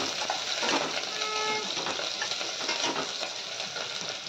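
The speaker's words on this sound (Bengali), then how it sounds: "লঙ্কা দিয়ে দিলাম, পেঁয়াজটা দিয়ে দিলাম। এটাকে ভালোভাবে একটু ভেজে নেব।" Green chillies and onion fry in a pan with curry leaves, giving a steady close sizzle with faint stirring scrapes throughout, no talking over it.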